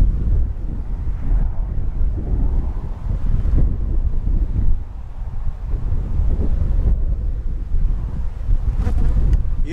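Honey bees drone steadily at an open beehive in spring, a dense continuous buzz close by, mixed with wind rumble on the microphone and no talking.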